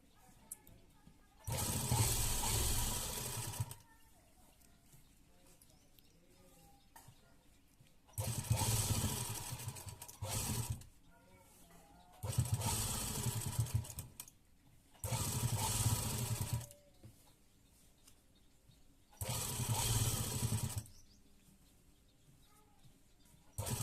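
A sewing machine stitches lace along a garment neckline in five separate runs of loud, fast, buzzing stitching, each lasting about two seconds, with quiet pauses between them.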